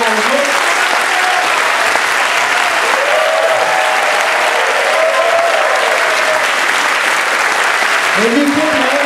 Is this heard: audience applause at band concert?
yes